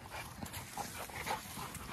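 A big, heavy Camelot dog of mastiff and pitbull mix pants close by in quick, breathy rhythmic puffs, with a few faint whimpers against a low background hum.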